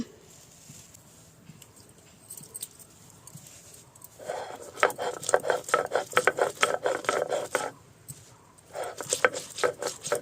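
Dried red chillies, black peppercorns, whole cumin and whole coriander ground together, producing a close, rhythmic rasping scrape that starts after a quiet stretch, runs in steady strokes, pauses briefly, then resumes.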